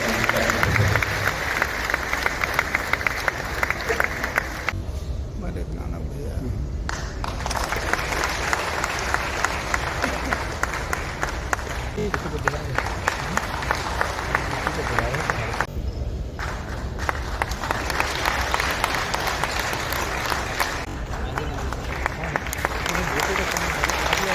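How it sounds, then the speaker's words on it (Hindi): Applause and crowd noise at a chamber ceremony in Jamshedpur, India, while a ceremonial lamp is lit: ongoing clapping with brief dips, under steady talk and hall noise. "हम तालियां बजाएं ताकि दीप प्रज्वलन की"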